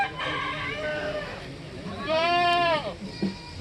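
A goat bleats loudly nearby in a long wavering cry at a village goat market, following an earlier animal call, with voices and background noise around it.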